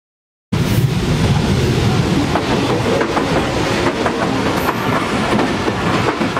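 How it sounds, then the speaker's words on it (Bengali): A train approaching and rolling past nearby, its heavy roar and rhythmic clickety-clack of wheels over rail joints building suddenly after a moment of silence and staying loud to the end. "ট্রেন আসছে, ট্রেন আসছে"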